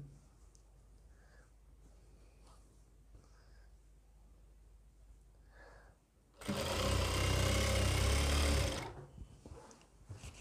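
Sewing machine stitching a medical nurse coat, a single loud close burst of rapid whirring lasting a couple of seconds after quiet handling and faint talk.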